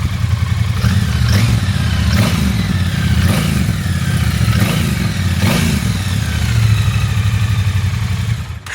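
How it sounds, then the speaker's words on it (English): A brand-new Triumph Elvis edition motorcycle idling, a steady low rumbling engine note with a faint periodic clatter, close and constant, with no voices. "So there's a little idle for you. It's a brand new bike, so we're not gonna rev it too hard."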